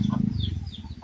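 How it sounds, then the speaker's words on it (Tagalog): Chickens on a family's farm clucking in a steady stream of short, repeated calls, close and fairly loud, with no talk over them. "Marami silang mga manok."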